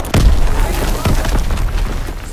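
Enemy artillery shells exploding in Call of Duty WWII multiplayer: two heavy, close booms about a second apart, each with a rumbling tail.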